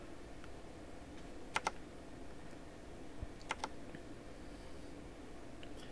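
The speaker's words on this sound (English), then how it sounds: "my apologies for the clickiness of my keyboard" A clicky computer keyboard sounds in short clustered bursts of keystrokes, two quick pairs of sharp clicks standing out over a steady background hiss during a strategy game session.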